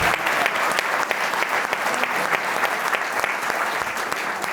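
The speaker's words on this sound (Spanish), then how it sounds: "Así que otro aplauso más para Gerardo." A theater audience at a live political talk show claps in sustained, dense applause, loud and close, holding steady for several seconds without letting up.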